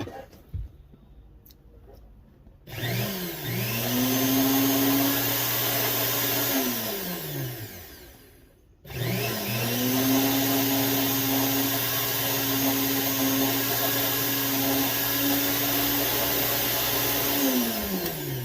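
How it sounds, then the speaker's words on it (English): A rotary grinder working around small sterling silver scrap rosettes held in pliers, a loud high whine that spins up, drops out briefly around the middle and resumes, steady and close with no voices. "holding it with a pair of pliers and grinding around them"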